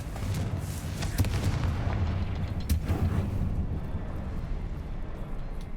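In the video game Hogwarts Legacy, a Confringo explosive spell blasts with booming, rumbling bursts and crackling pops, loud and dense at first, then settling into a lower lingering roar.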